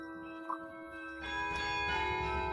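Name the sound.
carillon bells playing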